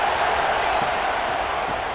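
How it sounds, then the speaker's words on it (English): Stadium crowd roaring in EA Sports College Football 26 during a Kentucky versus Texas A&M game, a dense steady wash of cheering with no distinct peaks. "listen to this crowd coming through"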